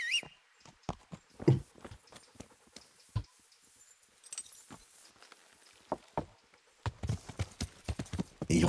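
Hooves of a horse in the video game Kingdom Come: Deliverance clip-clop at a walking pace, irregular hollow knocks close by, with a few quieter gaps and a quick flurry of steps near the end.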